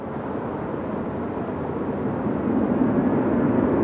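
The Solar Impulse solar-powered aircraft descends to land at New York JFK airport. A steady, broad, low rumble swells slightly as it continues, with no speech over it.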